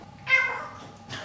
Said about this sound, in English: The cat is in the room.